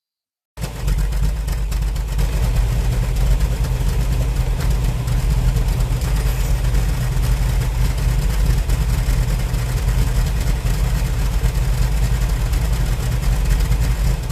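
A Ford Sierra XR4i with K-Jetronic fuel injection idles steadily up close after a sudden start, its low, even engine rumble holding constant with no voices over it.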